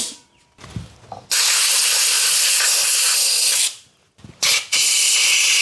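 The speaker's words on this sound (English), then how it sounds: "an air hose and give a good spray in there first" Compressed air hose blasting around the spark plugs of a Suzuki DR650 motorcycle, two long loud hissing sprays separated by quiet pauses and a few short clicks.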